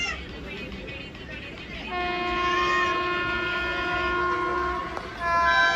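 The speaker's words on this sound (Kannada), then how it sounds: "ಇಲ್ಲೊಂದು ಟ್ರೈನ್ ಬರ್ತಾ ಇದೆ" A train sounds a long, steady horn blast over rumbling rail noise at a level crossing, with a second horn burst starting near the end as it passes nearby.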